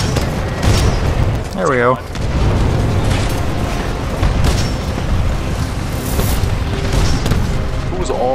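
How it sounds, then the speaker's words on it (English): Titanfall 2 combat with dense gunfire and booming explosions, loud and nearly continuous, while a player talks briefly over the din. "Who was all shooting near me?"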